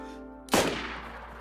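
A single sharp sniper rifle shot cracks loudly in the survival video game DayZ, followed by a long, decaying echo rolling away.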